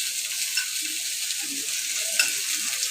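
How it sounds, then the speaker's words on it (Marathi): Bangda mackerel fish frying in oil over a low gas flame, giving a steady, close hiss of sizzling with a couple of faint clicks. "चांगलं फ्राय करून घ्यावं."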